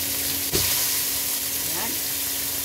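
Onion fries in a pan with a dense, steady sizzle and hiss, close up, with a sharp clatter near the start, a brief scrape later, and a voice faintly in the background.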